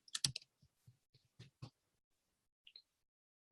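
Typing on a computer keyboard: a few short bursts of crisp key clicks with quiet gaps between them, close and fairly soft, with no speech.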